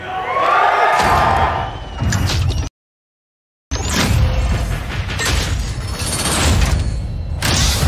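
The Call of Duty Black Ops 4 multiplayer reveal trailer plays loud, dense game audio of booms, mechanical clatter and gunfire-like bursts, broken by a brief full silence.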